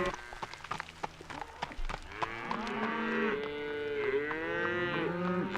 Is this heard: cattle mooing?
yes